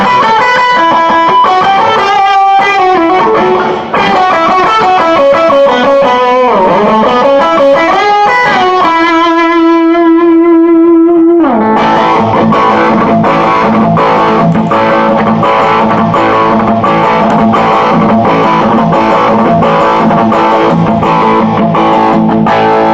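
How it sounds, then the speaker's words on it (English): A distorted electric guitar through a Plexi-style distortion plays loud, sustained chords and ringing notes, briefly dropping to a single held tone before a thick, driving distorted rhythm resumes. "when I want to cut through the mix, I turn on the plex distortion"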